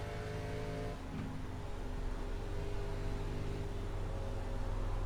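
Simulated Chevrolet Impala ARCA Menards race car engine at Charlotte Motor Speedway in a racing video game, a steady loud drone that builds slightly as it accelerates, with no talk.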